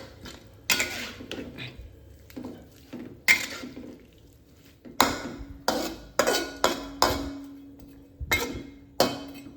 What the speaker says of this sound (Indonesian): Oke, aduk dulu supaya matangnya merata.